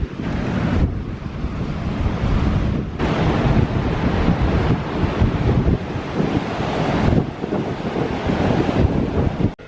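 Steady, loud roar of waves rolling onto a beach in Cornwall, blended with heavy wind buffeting the microphone, continuous and close throughout with no voices.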